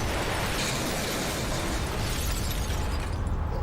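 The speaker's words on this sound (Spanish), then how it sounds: "5 explosiones sacuden a Manhattan." Dense, roaring blasts and crackling debris fill the air continuously, loud and chaotic, like a series of explosions in Manhattan, New York.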